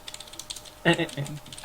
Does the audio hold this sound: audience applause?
no